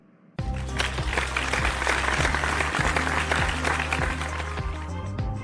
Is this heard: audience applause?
yes